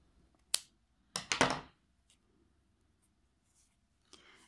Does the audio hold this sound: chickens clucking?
no